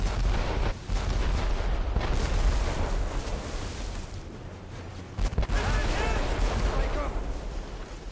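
Ship cannons firing during a naval battle in Assassin's Creed Rogue, heavy booming volleys rolling almost continuously beneath shouted crew voices, with a sharp renewed blast partway through.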